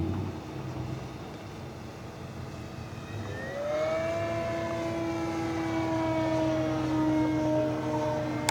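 A small electric RC model airplane, an E-flite Carbon-Z Cessna 150 with 2.1 m wingspan, whines steadily overhead, its pitch rising and sliding as it banks and passes, with no voices.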